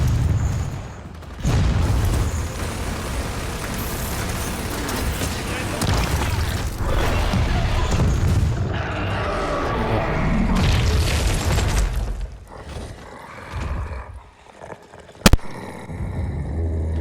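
Gunfire and heavy explosions boom through a Gears of War 4 battle as blisters are shot, a dense loud barrage with a sharp bang near the end and some voices underneath.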